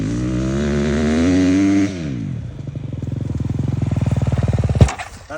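A motocross bike on a natural terrain track, its engine revving high and then dropping into a fast, loud, rattling chug that builds before a sharp bang near the end.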